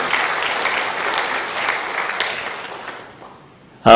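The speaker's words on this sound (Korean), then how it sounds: "우리 양 교수님도 큰 박수로 환영을 해 주시길 바랍니다." A church congregation at a Sunday service claps warmly to welcome a visiting theology professor; the dense applause fades out after about three seconds, and a voice then cuts in abruptly.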